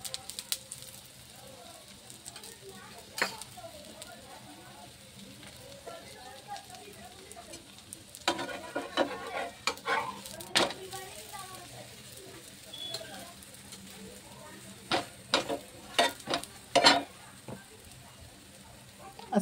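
Methi paratha fries on a tava with a little oil poured around the side: a quiet, steady sizzle broken by sporadic sharp crackles and pops, while someone talks at times.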